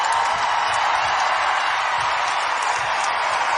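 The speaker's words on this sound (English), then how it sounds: "And you can hear the crowd shouting now, Big Ten champs." Basketball arena crowd at an Ohio State vs Michigan Big Ten women's game, a steady roar of many voices chanting and cheering continuously in a large hall.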